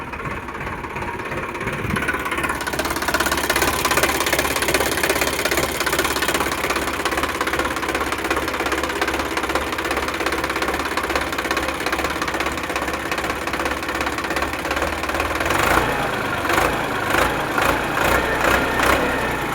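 A Sonalika RX 42 DI tractor's diesel engine runs close by, giving a loud, steady, knocking rumble that continues for the whole stretch and changes slightly in tone toward the end.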